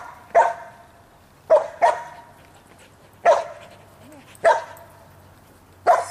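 Small dog barks sharply and loudly, five or six separate barks spaced a second or so apart with quiet gaps between, close to the microphone.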